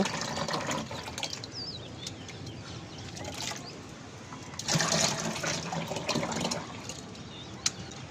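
Cow dung slurry poured into the white gas chamber of a small homemade biogas plant, a thick, gurgling wet rush up close, swelling in a heavier surge midway before easing back.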